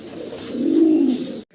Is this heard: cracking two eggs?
no